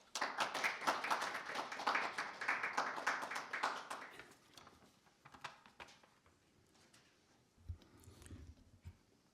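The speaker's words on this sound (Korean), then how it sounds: "따뜻한 박수로 맞이해 주시기 바랍니다." An audience at a medical forum opening claps warmly for several seconds, the applause peaking early and then thinning out into scattered claps and quiet room noise.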